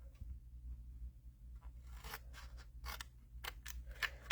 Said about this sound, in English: Then I'm going to come in and I want to cut the small score line